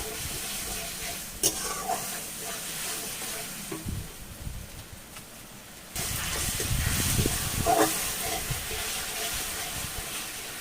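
Spice paste is stir-fried in a pan for a vegetarian kochu root curry: a soft sizzle with intermittent scraping and stirring, growing louder midway, with some watery background noise.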